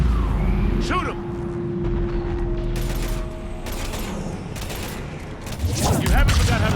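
Gunfire from the Mass Effect 3 video game, a few bursts of shots mixed with mechanical clatter and a rising whine, heard under game characters' shouted dialogue, louder toward the end.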